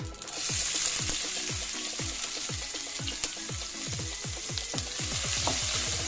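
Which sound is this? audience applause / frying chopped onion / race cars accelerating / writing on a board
frying chopped onion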